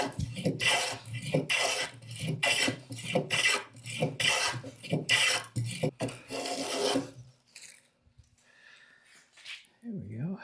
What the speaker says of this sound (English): going to plane it down smooth with the bench top